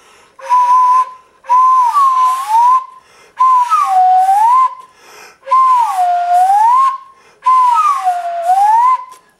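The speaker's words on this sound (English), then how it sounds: "And that is your paper slide whistle." A paper slide whistle blown in five long separate bursts, each tone sliding down and back up in a swooping wave, loud and close with short pauses between.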